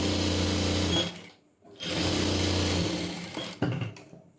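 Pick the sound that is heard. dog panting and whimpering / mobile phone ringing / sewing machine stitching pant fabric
sewing machine stitching pant fabric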